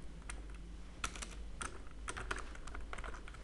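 Typing on a computer keyboard while entering a font name into code, heard as irregular bursts of close, crisp key clicks over a low steady hum, with no voice.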